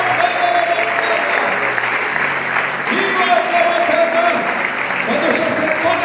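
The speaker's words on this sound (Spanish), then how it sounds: "Denle un aplauso a Jesús." A congregation at a national church convention applauds loudly and steadily, a dense wash of clapping while voices and a sustained musical tone run underneath.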